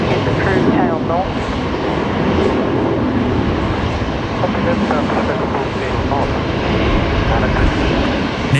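A China Eastern airliner passes loud overhead at Brisbane Airport, a steady broad roar filling the whole stretch with constant intensity, while people talk over it.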